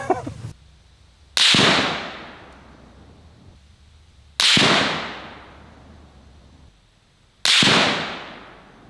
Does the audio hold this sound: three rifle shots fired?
yes